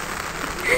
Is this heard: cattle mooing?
no